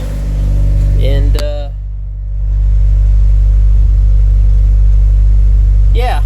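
A 1988 Honda Accord engine running on E85 idles with a steady, even hum. Someone briefly speaks near the start.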